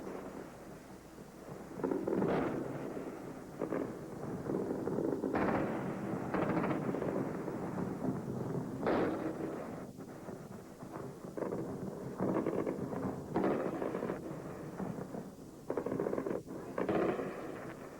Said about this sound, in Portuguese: Agora você ouve com nitidez o barulho das explosões na capital do Iraque, Bagdá